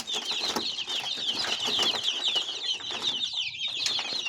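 One-month-old Adler and O'xayli chicks chirping together, a busy cluster of high, rapid peeps close by, fairly faint with shuffling and rustling beneath.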